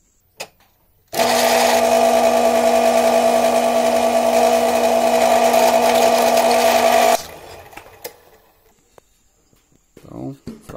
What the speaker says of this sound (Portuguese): Vamos regular aqui a furadeira de bancada.